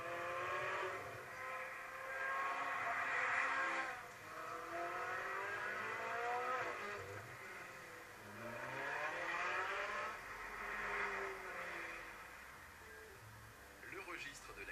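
A high-pitched, naturally aspirated Ferrari California T V8 revs up and down in long rising sweeps, fairly distant and muffled, with a voice talking over it.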